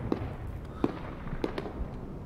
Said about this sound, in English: A few kills for the Russian artillery strike.